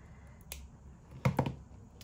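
Scissors snip beading thread close up: a quiet click, then a quick double or triple snip with sharp, brief, crisp attacks against a near-silent background.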